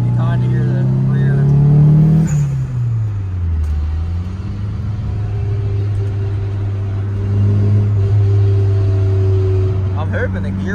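A Nissan 180SX driving with rear gear noise, a steady low engine and drivetrain drone with a rev change early on, heard from inside the car while someone talks over it.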